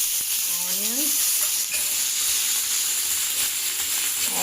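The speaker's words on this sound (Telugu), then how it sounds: "ఆనియన్, పచ్చిమిరపకాయలు ఫ్రై చేసుకుంటున్నాను" Onions and green chillies frying in a pan for an egg masala, a continuous bright sizzle and hiss, close and steady, with a brief voice in the background.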